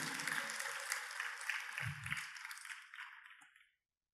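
Steady applause from a crowd at a religious gathering, dense and moderately loud, fading out near the end with a brief low thump midway.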